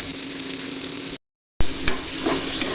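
Pieces of elephant foot yam frying in hot oil while being stirred and turned for a roast, giving a steady close sizzle broken by a short silent gap and then a few scraping stir clatters.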